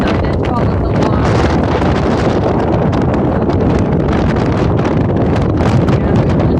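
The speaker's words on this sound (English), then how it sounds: "we're just sitting here rocking back and forth in the winds" Strong, steady 45-knot wind roars across the microphone on a sailboat in a continuous broadband rush, with gusty buffeting throughout and faint creaks and water movement beneath.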